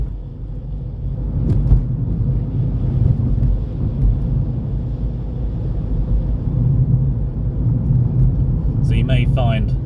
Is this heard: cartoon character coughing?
no